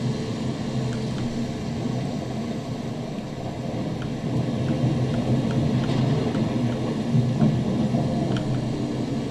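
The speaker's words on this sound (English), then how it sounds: "You see everything's wet because it's raining out" Rain and thunder in the CastleMiner Z video game, a steady hiss of rainfall under low rumbling thunder that swells louder in the second half, with faint scattered ticks and no voices.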